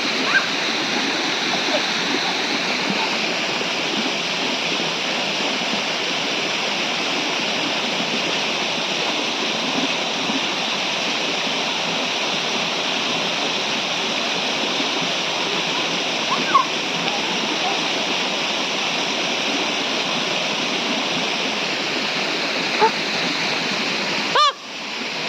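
Durga Falls, a rocky waterfall fed from the Ayodhya hills, pours with a continuous, loud, broad hiss and roar that stays steady close by throughout, with only a few faint knocks near the end.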